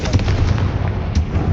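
Confringo fire spell blast in Hogwarts Legacy, a dense continuous roar of crackling explosive bursts with heavy low rumble throughout, loud and close, with a sharper pop near the end.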